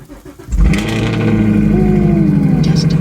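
A Chevrolet Camaro SS 1LE V8 cold-starting in snow: a sudden loud starter catch and roar, then a high idle that stays steady with a slowly shifting tone, close and with no talk.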